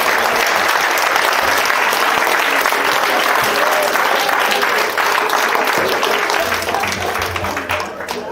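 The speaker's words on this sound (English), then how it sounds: "Come on, you can clap." An audience bursts into sustained, loud applause, a dense wash of clapping that holds steady for several seconds before easing slightly at the end, with a voice faintly audible underneath.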